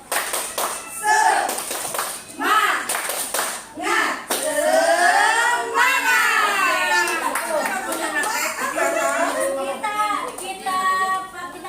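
Tepuk Semangat, a rhythmic group clap chant led in a positive discipline teachers' session, with bursts of patterned clapping mixed with voices chanting and talking loudly over it.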